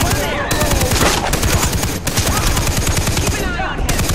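Rapid automatic gunfire in Far Cry 3 rattles in dense, continuous bursts, loud and close, with brief gaps around reloads and faint voices underneath.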